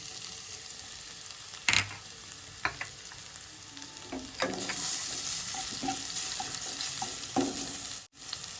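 Garlic frying in hot oil in a pan for a bathua greens stir-fry, a soft steady sizzle broken by occasional clinks and scrapes of stirring, with no voices.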